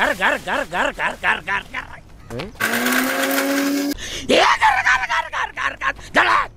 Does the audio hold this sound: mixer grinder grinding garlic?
yes